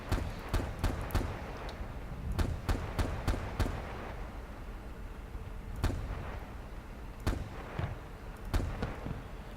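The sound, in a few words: BTR cannon firing in the video game Arma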